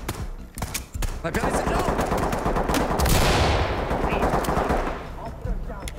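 Dense, loud automatic gunfire fills the Ready or Not firefight, a near rapid burst hammering continuously for several seconds, with someone speaking French over the shooting.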